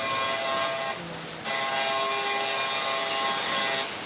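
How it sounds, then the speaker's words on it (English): Model railroad trains running on a layout, a steady mechanical hum with sustained tonal whine, briefly dipping and then resuming at close range with no talking. "That's just the sweet sound of trains running."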